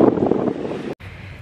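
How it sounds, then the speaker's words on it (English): Strong wind buffets a microphone outdoors, a loud rumbling gust that cuts out abruptly near the end, then resumes more softly. "it's windy"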